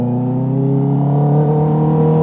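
Honda CB650R motorcycle from 2023 running steadily while riding, a continuous loud close engine drone with a constant tone and no talk over it.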